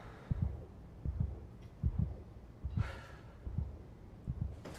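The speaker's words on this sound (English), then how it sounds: "the loud heartbeat is always effective" Loud, thudding heartbeat in the horror video game SOMA, steady paired beats pulsing low and close, with a faint breathy sound partway through.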